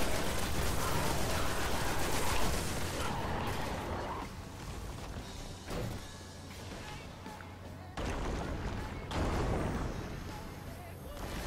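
Gunfire in the Destiny King's Fall raid, dense rapid shots and booming blasts layered with game effects, loud throughout, with voices talking over it in a party chat.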